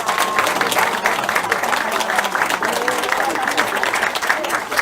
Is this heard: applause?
yes